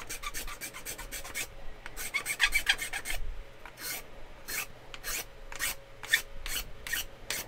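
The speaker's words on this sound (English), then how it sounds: "I don't recommend doing what I just did. Because remember, that's a round Dremel bit, trying to make a flat surface." Short, repeated bursts of harsh rasping from a Dremel rotary tool with a round bit grinding against a flat surface, coming in quick irregular strokes close by, with pauses between them and no speech.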